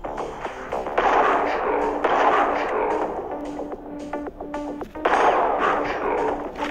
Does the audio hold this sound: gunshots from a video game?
yes